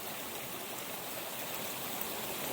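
Mule's Ear Creek flows steadily nearby, a constant broadband rushing of water at even loudness, with no voices over it.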